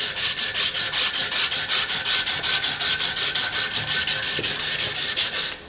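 Fine sandpaper rubs around a round metal pipe held in a small vise, making fast, even, rhythmic scratchy strokes, close and loud, continuing steadily without any voices.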